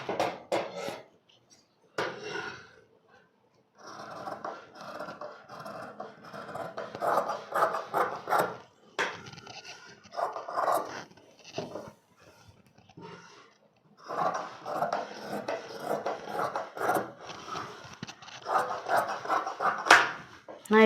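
Scissors cutting the back piece of a lined blouse, with repeated close crunching snips and rasping strokes in uneven bursts separated by brief quiet gaps.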